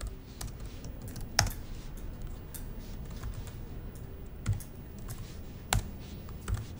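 Fingers type on a computer keyboard in quick, soft clusters of key clicks, with a few sharper louder keystrokes standing out against a quiet room.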